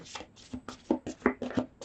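Quick, close riffling and slapping of a deck of large tarot cards being shuffled by hand, a rapid burst of soft papery taps.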